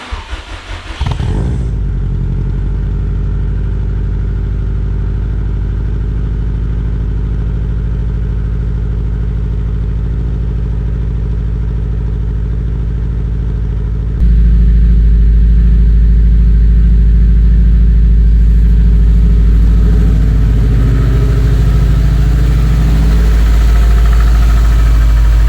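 A 2004 Subaru WRX STI engine cranks and starts in snowy conditions, then settles into a steady loud idle and grows louder and deeper about halfway through as it revs.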